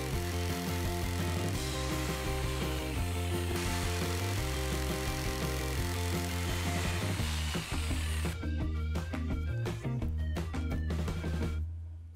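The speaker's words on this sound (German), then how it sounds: "achtet nur darauf, die Palette immer abschließend zu einer Querlatte abzusägen, um unschöne Kanten zu vermeiden" A wooden pallet being sawn into pieces gives a continuous loud tool whine with steady harmonic tones and clattering, shifting pitch partway through before tailing off, with no talking.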